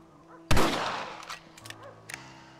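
A single loud rifle shot in the Western video game Red Dead Redemption, a sharp close crack with a long echoing tail, followed by a few faint softer pops.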